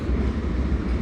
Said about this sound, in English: You could definitely hear a freight train right now.